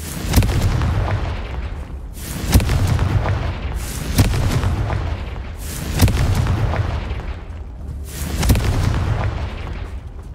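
Repeated fire-blast spell explosions from a Hogwarts Legacy duel, loud booming bursts recurring roughly every two seconds, each a sharp crack swelling into a rumbling roar, with no talk.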